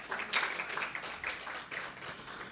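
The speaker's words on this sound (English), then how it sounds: "That's a good point to clap." Audience clapping at a photography competition prizegiving ceremony, a faint, brief patter of scattered hand claps over about two seconds.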